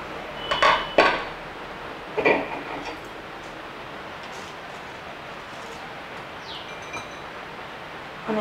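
A metal cooking pot of veg biryani is opened, giving a few sharp clanks and scrapes of the lid near the start against a steady kitchen background hiss.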